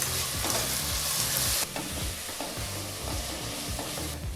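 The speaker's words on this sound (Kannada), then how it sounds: "ಟೊಮೊಟೊ ಹಣ್ಣನ್ನು ಸಹ ಸೇರಿಸಿ ಒಂದು 2 ರಿಂದ 3 ನಿಮಿಷ ಮತ್ತೆ ನಾವು ಫ್ರೈ ಮಾಡ್ಕೋಬೇಕಾಗತ್ತೆ" Tomatoes fry over a low flame for vangi bath and are stirred in the pan, a dense, unbroken sizzle with scraping strokes and faint background music underneath.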